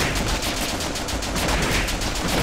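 Rapid automatic gunfire in The Legend of Alfur, an indie Japanese first-person shooter, a dense continuous burst of loud crackling shots running unbroken throughout, with no talk.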